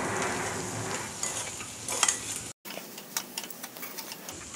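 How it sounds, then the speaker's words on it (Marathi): Dry masala being sautéed on low heat in a pan for hotel-style puri bhaji, heard as a soft sizzle with irregular stirring scrapes and ticks, close and fairly quiet, briefly cut by a gap; there is no talking. "छान मिनिटभर परतून घ्यायचं आहे आणि परतत असताना गॅस हा कमीच ठेवायचा आहे"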